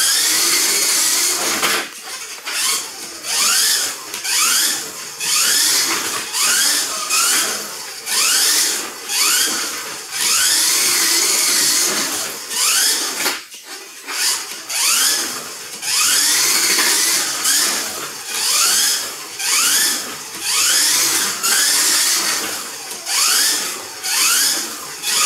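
A Kyosho Mini-Z RC car, a McLaren body with wheel hop, runs laps on a small indoor track, its tiny motor whining in repeated rising and falling sweeps, loud and close, with one brief pause midway.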